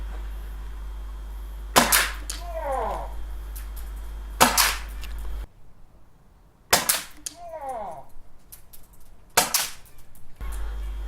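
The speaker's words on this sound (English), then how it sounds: "We have the sawn-off shotgun filled with .2s." An airsoft sawn-off shotgun fires 0.20 g BBs at a Tippmann airsoft mask: four loud, sharp shots, evenly spaced a couple of seconds apart, each followed by a brief ringing, echoing tail.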